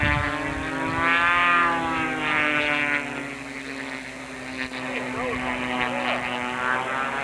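An RC model airplane races around pylons at a 1994 Easter airshow in Galveston, its small engine giving a steady, buzzing drone that rises and falls as it banks, with a voice talking over it throughout.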